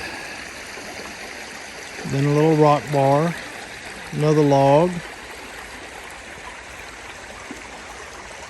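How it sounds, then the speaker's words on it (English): A steady babble of creek water flowing under a large log runs throughout, with someone speaking briefly over it midway. "you got this big, huge log sitting here. Water's coming under it."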